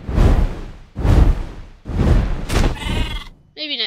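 Several loud, close sheep bleats from Minecraft, four wavering calls in steady succession, the last one short and thin.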